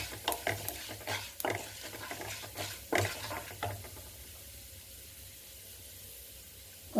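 Ingredients for nalleru (veldt grape) chutney frying in a pan, with a cluster of scraping stirs and light sizzling over the first few seconds, then a quieter soft sizzle trailing off, close by with no voices.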